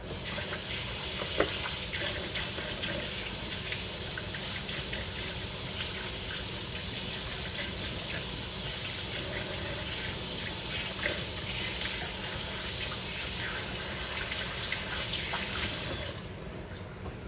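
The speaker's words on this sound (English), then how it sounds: "I'm going to just wash my hands right quick" Tap water gushes steadily into a kitchen sink as hands are washed while preparing no-bake peanut butter oatmeal energy balls, a continuous close splashing that runs unbroken and then cuts off near the end.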